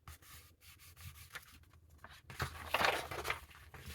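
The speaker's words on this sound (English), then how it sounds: "Just fold it." Paper is folded and creased by hand while making a junk envelope, heard as soft, close rubbing and scraping strokes with brief pauses, swelling into a firmer crease near the end.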